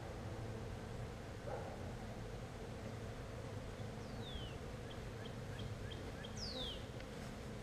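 Honey bees at a hive during an inspection give a steady, dense buzzing hum throughout, with a few faint bird chirps rising above it in the background.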